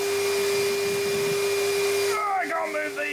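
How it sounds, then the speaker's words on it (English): A vacuum cleaner connected to a shot blast cabinet drones loudly and steadily, then its pitch shifts and wavers near the end as the airflow changes. "we've connected Charles, the Hoover, to our shot blast cabinet."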